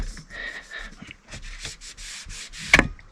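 Grime is scrubbed off the rubber window seal of a motorhome camper van in short, close rubbing strokes, ending with a brief sharper scrape; no one speaks.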